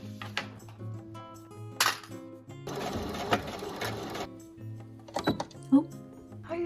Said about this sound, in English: Clipped it and now we can head to the sewing machine.